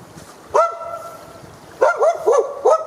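A dog barks beside a river, one sharp bark followed after a pause by a quick run of three or four barks, fairly close and loud over faint outdoor background, with no talking.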